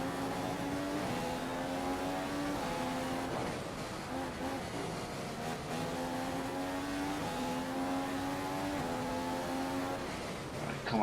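A race car engine in a racing video game drops through the revs under braking, then climbs again through gear changes, steady and moderately loud on a track lap.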